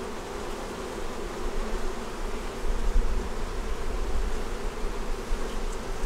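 Honey bees swarm around an opened hive as frames are pulled for honey, a dense, continuous buzzing that swells and stays loud and close throughout, with no talk.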